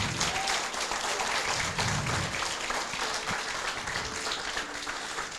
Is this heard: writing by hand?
no